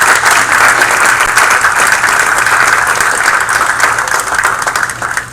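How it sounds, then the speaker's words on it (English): Audience at a council meeting claps loudly for a performer in a full, even burst of applause that carries on steadily before thinning slightly near the end. "Let's give him another round of applause"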